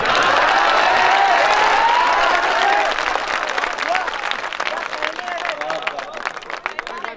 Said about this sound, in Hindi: आपने हिंदू परिवार के मुखिया के जवाब पर तालियां तो बजाई